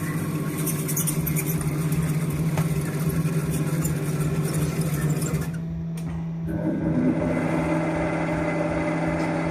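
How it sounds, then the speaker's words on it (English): A CNC lathe spindle spins clockwise in a machine shop, giving a steady, close mechanical hum with a constant drone that drops briefly partway through before resuming. "Our spindle is now spinning clockwise once again."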